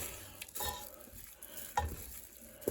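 Sausages cook in a skillet over very low heat for shrimp jambalaya, with a faint, steady sizzle and a few soft scraping stirs and light knocks against the pan.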